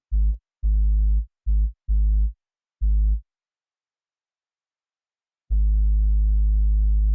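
The deep, smooth Deep Sub bass preset on the Spire synth plays short notes in an irregular rhythm, then holds one long sustained low tone after a pause, with no reverb or delay.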